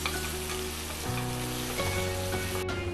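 Green chili and spring onion sautéing in a pan for gobi manchurian, a continuous dense sizzle and crackle under a steady background hum, moderately loud without pauses.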